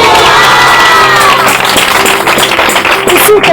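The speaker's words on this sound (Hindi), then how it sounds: "जिस तरह अभी आप खुदा के कलाम पर ताली बजा रहे हो" A church congregation claps and cheers during a sermon, a loud, busy crowd roar with scattered hand claps and shouts, the preacher's voice mixed in beneath the noise.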